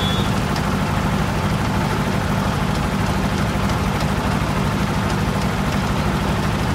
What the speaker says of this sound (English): I'll start the generator and I'll show you.